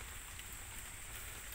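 Steady rain falling outdoors around a wild junglefowl trap site, an even, faint hiss of drops with no gaps, heard alone without voices.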